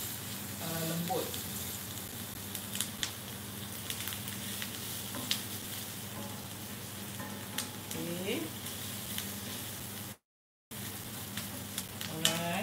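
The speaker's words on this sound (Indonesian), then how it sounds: "Kita tumis dia hingga dia lembut." Ingredients for potato lasagna sauté in a pan, a soft continuous sizzle with occasional clinks of stirring, fairly quiet, with a voice speaking in bursts over it and a brief dropout near the end.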